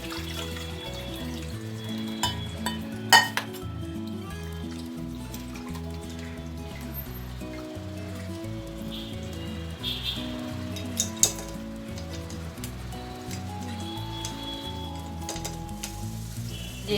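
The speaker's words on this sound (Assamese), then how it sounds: "এইখিনি মই ভালদৰে সানি ৰসটো ওলাই ল'ম ইয়াৰে।" Grilled raw mango is mashed by hand in water in a bowl, giving soft squelching and sloshing with occasional clinks against the bowl. A low musical background runs throughout, and no one speaks.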